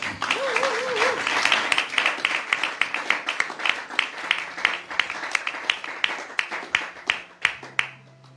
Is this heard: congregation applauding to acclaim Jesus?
yes